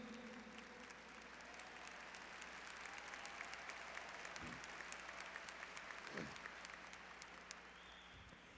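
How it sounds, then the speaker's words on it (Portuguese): A church congregation at a charismatic Catholic gathering applauds steadily and evenly throughout, a dense sustained wash of many hands clapping with a few low thumps underneath. "pode aplaudir mesmo então"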